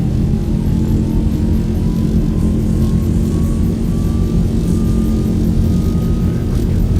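Loud, continuous airliner engine roar at takeoff thrust in an X-Plane 11 flight simulation of a Virgin flight between Melbourne and Sydney, a steady deep rumble with a thin whine slowly rising in pitch as the jet accelerates.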